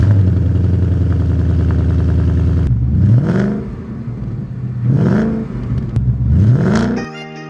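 A 2017 Ford Mustang GT engine, wrecked and rebuilt, idles steadily and then blips through three sharp revs in a row, each rising and falling back, loud and close.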